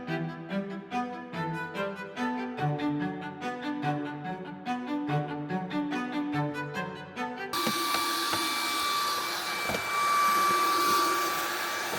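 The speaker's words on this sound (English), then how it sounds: "So we needed the Hoover for the van. So I got the Shark one" A Shark pet-hair vacuum cleaner bought for a van switches on partway through, its steady loud whine and roar following a stretch of tonal music and running alone to the end.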